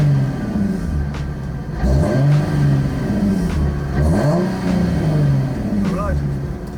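A Nissan 350Z engine revs repeatedly, captured by microphones on the exhaust and intake, with three rising and falling sweeps of a loud, throaty roar over a steady idle.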